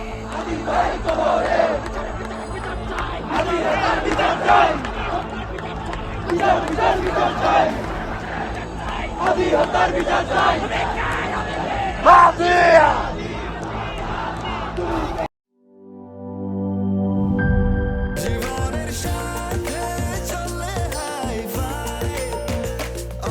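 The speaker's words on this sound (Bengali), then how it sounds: "আমরা সবাই হাদি হব, যুগে যুগে লড়ে যাব ইত্যাদি স্লোগান দিতে দেখা গেছে" A protest crowd at Shahbagh chanting slogans in loud, rhythmic unison, with many voices shouting together before a sudden cut to a different, steadier crowd roar.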